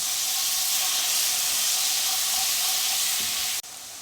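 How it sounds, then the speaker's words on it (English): Minced garlic sizzles in melted butter in a pan, a steady loud hiss that continues without a break and then drops to a quieter level just before the end. "we're going to add in a tablespoon of minced garlic and let this cook down for about a minute"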